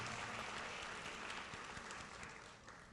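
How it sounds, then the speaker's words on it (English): Applause from a school rally crowd, a dense, steady clatter of many hands clapping that carries evenly through the clip and thins slightly at the very end. "Another round of applause for Diana, Key Glass, and congratulations to"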